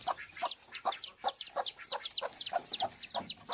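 Ducks and their ducklings calling as they are led outside, a steady run of repeated, closely spaced bright peeps and quacking calls, fairly near, with no talking.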